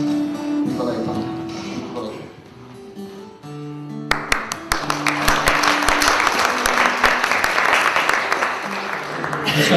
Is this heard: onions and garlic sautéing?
no